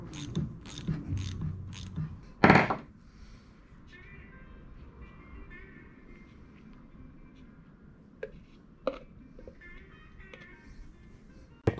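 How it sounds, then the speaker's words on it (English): A wrench works at a 14 mm oil plug on a Powermatic Model 15 planer gearbox, a few close metallic clicks and a sharp clank early on, then sparse faint taps and ratcheting over a quiet workshop background. "now I'm gonna remove this oil plug right here and drain the gearbox"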